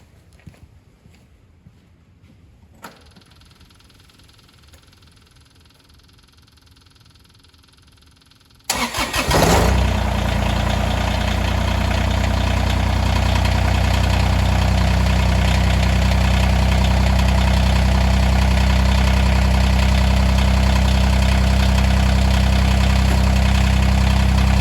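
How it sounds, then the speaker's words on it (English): A Kubota BX2380 compact tractor engine cranks and catches after a quiet stretch with faint knocks, then settles into a loud, steady diesel idle that runs on unchanged, close by. "I'm going to start the tractor up and raise the lift arms out of the way first"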